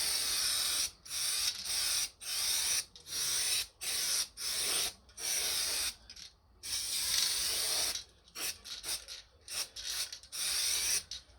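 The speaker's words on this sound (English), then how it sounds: "I'll give them a quick coat of underseal." Underseal coating sprayed from an aerosol can onto original brake backing plates of an Alfa Romeo 166 rear brake, heard as close, repeated short hissing bursts with brief gaps, steady and alone.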